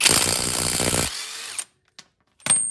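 A power tool whirs loudly for about a second as a 30mm wheel hub nut on a Nissan Micra K11 is undone, followed by a few faint clicks and knocks.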